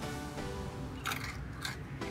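Crunchy wasabi peas are bitten and chewed close to the mic, giving a few soft crunches in an irregular rhythm with quiet chewing between them, and no talking.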